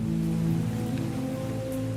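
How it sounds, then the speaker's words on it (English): Steady rain pours over a dark near-future city in a Five Nights at Freddy's Security Breach concept, a constant dense hiss with low droning tones beneath, even and unbroken throughout. "The urban sprawl is drenched in a constant rain"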